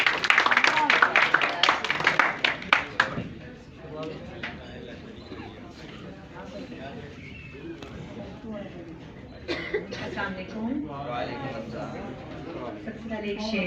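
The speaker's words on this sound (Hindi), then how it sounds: "भरपूर तालियों में इस्तकबाल करें मोहतरमा सिद्रा गई।" An audience at a poetry program in a Karachi hotel greets a poet with a burst of loud clapping that fades after about three seconds, followed by someone speaking over a quiet room.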